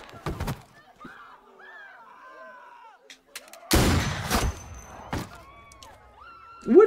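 Gunshots in The Walking Dead video game: several sharp, loud bangs spaced irregularly, including a long booming burst in the middle, mixed with excited talking and game voices.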